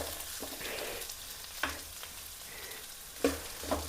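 Chili frying in a pan, a soft steady sizzle punctuated by a few sharp stirring clinks and scrapes, quiet and close with no speech.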